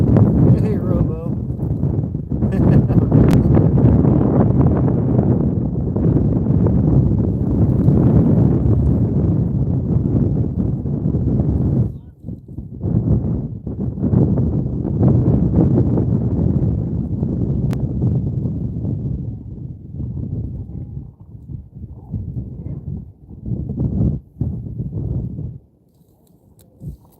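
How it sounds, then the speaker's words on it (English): Steady wind gusting across an ice fishing lake, a low rumbling buffet on the microphone that rises and drops, with a person talking over it. "it's breezy out"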